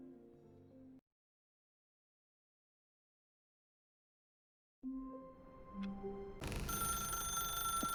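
A telephone rings in the video game The Stanley Parable: Ultra Deluxe, coming in after a stretch of silence with bright, sustained ringing tones that grow louder toward the end.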